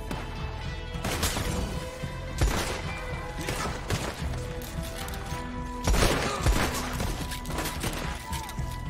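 Heavy online gunfire in Red Dead Redemption 2, with several loud sharp bursts and cracks landing at irregular intervals over a dense backdrop of noisy game sounds.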